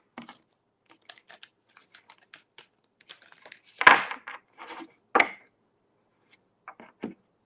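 Tarot cards being shuffled by hand: a scatter of soft, close ticks and taps, broken by a few louder riffling bursts and slaps, with quiet gaps between them.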